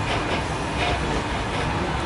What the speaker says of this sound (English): So I'm on the tram on the way back.